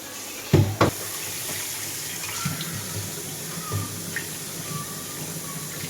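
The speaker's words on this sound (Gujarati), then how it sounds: "ફિશને ફટાફટથી આપણે ધોઈ લઈએ" Fish rinsed under a running kitchen tap, a steady stream of water splashing with a couple of louder bursts near the start and small drips and clinks throughout, recorded close.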